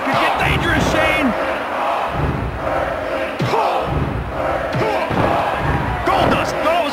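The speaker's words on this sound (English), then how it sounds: "This crowd is pumped up! They are jacked!" Wrestling video game crowd roars steadily in WWF Attitude, a dense loud arena wash with thuds and slams cutting through, while commentators talk over it.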